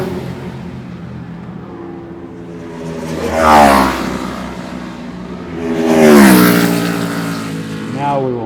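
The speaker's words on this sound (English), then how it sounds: "these are the 350s, 350cc, and the bike leading coming now" A pack of 350cc racing motorcycles screams past at a New Zealand race meeting in two loud waves, engines rising then dropping in pitch as each bike closes in and pulls away, with a third fainter pass at the end.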